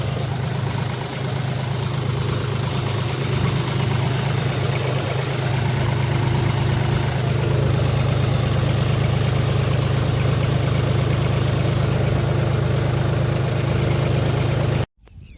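A tractor back home at evening after field sowing idles with a steady low rumbling drone, close and constant for the whole stretch before cutting off abruptly at the end.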